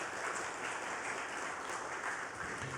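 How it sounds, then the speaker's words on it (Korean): A dense, steady wash of applause fills a Korean church's Sunday worship service as the congregation claps in encouragement for longtime elder members, sustained and even throughout. "우리 한번 박수를 한번 격려해 드립시다."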